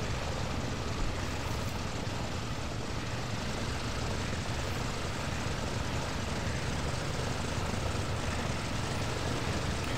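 A Douglas DC-6 piston engine, engine number 3, runs in the X-Plane 11 simulator, making a steady, loud, dense propeller drone that holds constant with no pauses or voices.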